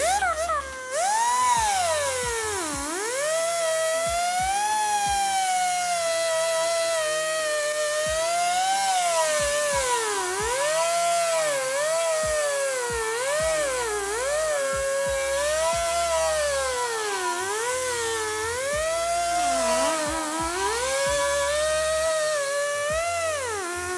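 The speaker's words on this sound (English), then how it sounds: "So I'm using just an air grinder with a wire brush" An air grinder with a wire brush works on a motorcycle gas tank, giving a high, steady whine that rises and dips continuously as the load changes, close and sustained throughout.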